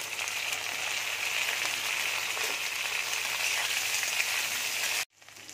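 Okra and panch phoron spices fry in hot oil with a loud, close, continuous crackling sizzle. It holds steady for about five seconds, then cuts off abruptly, leaving a fainter hiss.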